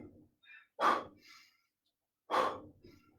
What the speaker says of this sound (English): So you notice I'm breathing out.